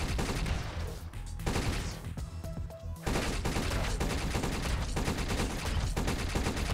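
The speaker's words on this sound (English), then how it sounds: "But it seems like we shoot, shoot, shoot, and then we get like this piercing shot at the end of it." An electric gun in the Blade Assault video game fires a fast, dense string of crackling shots, then a piercing final shot. The bursts are loud and continuous, with only a short dip in the middle.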